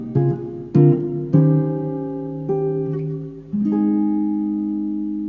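Guitar chord melody reharmonization example: a handful of clean plucked chords, each ringing and decaying, played solo in a slow sequence with the last chord sustained.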